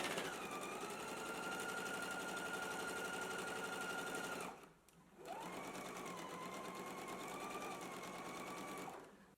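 Steady, fast sewing machine stitching a 5/8-inch seam joining a side front panel to a skirt front, running close for several seconds, pausing briefly, then resuming at the same even whirring pace.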